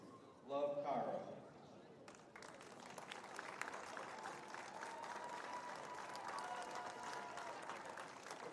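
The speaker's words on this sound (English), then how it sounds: "Give one more round of applause for these seniors and all of their shirt off the back teachers." A crowd at a high school girls' basketball game applauds for the seniors, a broad sustained wash of clapping and cheering that follows a loud announcer's voice at the start.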